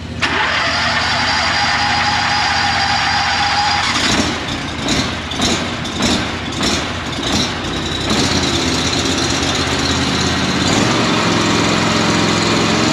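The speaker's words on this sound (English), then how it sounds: "I want to do at least a cold start for you and just get that blood flowing, right?" Small engine on outdoor power equipment being cold started: a steady loud run, then a few seconds of rhythmic sputtering pulls and catches before it settles into a continuous, close, fairly loud running drone.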